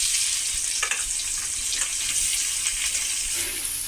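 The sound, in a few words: frying boiled jackfruit and potatoes in oil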